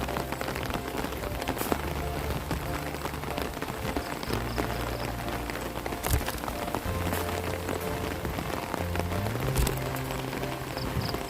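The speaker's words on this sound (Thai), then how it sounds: "ฝนตกชุ่มฉ่ำ" Steady, dense rain patters on surfaces throughout, a continuous wash of drops with faint low hum in the background and no voices.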